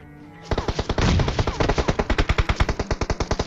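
Video game gunfire from behind in a solo battle-royale match, a loud sustained burst of rapid automatic shots firing in a steady rhythm, close and alone.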